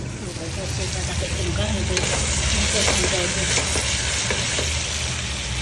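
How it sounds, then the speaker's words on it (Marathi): Onion, green chili and ginger garlic paste fry in a pan with a busy, crackling sizzle and stirring scrapes, steady and close throughout. "भाजपाचो ऑनियन आनी तेजे उपरांत ग्रीन चिली आनी जिंजर गार्लीक पेस्ट"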